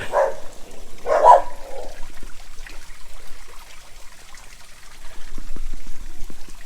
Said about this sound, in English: That's what happens when you have dogs and people walk by your house.